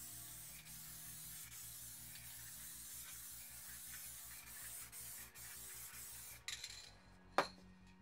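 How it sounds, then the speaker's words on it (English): White crackle-effect spray paint hisses from an aerosol can in a steady, continuous spray over several seconds, applied in up-and-down passes to coat an object, then stops with a brief clatter near the end. "this time I'm going to be using the white crackle spray paint"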